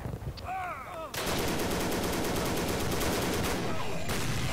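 Dense, loud gunfire in a World War One battlefield video game, a sustained barrage of rapid overlapping shots from about one second on, with a brief high whistle and faint voice before it.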